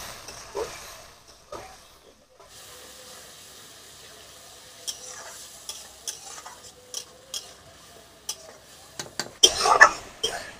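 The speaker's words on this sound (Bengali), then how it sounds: "সমস্ত মশলাগুলোকে আমি সুন্দর করে কষিয়ে নেব।" A spice masala with water is stir-fried in a pan for a fish-head chorchori, heard as quiet scraping and clinks of a spatula against the pan over a low sizzle, ending in a louder burst of frying.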